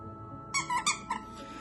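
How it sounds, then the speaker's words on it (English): A small squeaky toy squeaks four times in quick succession, bright and close, over quiet room tone. "there's a lot of history between me and this little squeaky toy"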